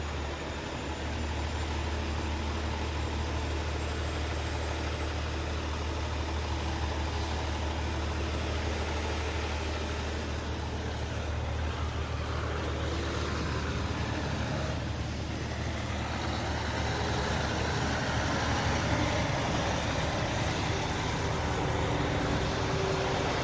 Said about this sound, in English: birds are singing, and trucks are driving.